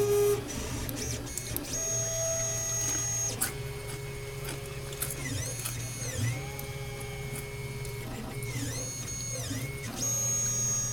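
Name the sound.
3D printer laying down first layer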